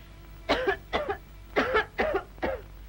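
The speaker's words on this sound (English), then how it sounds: "Well, I cough all the time." A man coughs repeatedly, five short harsh bursts in quick succession, close and clear with no other sound around them.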